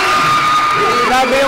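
Crowd at a basketball game roaring and whooping loudly in a dense, sustained burst, with a voice shouting above the din.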